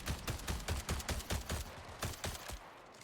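Rapid bursts of video game gunfire, about a dozen sharp shots in an uneven rhythm, fairly close and quiet overall, with no talking over them.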